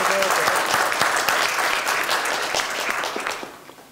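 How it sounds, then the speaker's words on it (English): An audience at the Singularity Summit Australia claps in a full round of applause, dense and close at first, then gradually thinning and fading out over the final second. "how about a round of applause for Mr. Ford here for pulling this together?"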